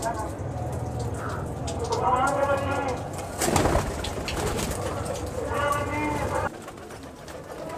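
Pigeons from a breeder pair, one of them a female, coo in repeated throaty rolls close by, with a spattering noise like rain and bursts of speech over them.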